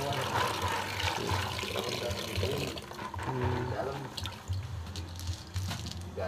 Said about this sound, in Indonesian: Nah, setelah ini kita rendam pakai air beras.